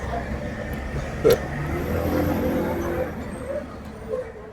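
A UPS delivery truck rolls past a bus stop on a busy street, a steady engine drone with passing road noise and a brief sharper burst, while nearby voices murmur.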